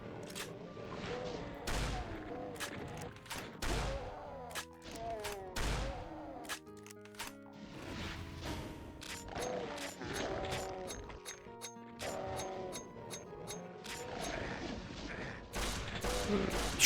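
Regular shotguns fire in the Doom mod Innawoods, a rapid, uneven string of sharp blasts and booms, some in quick clusters, with game clatter between shots.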